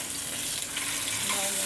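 Onions and green chillies are added to a pan with spices after fish has fried, and they give off a dense, close, continuous sizzle with faint stirring. No voice is heard.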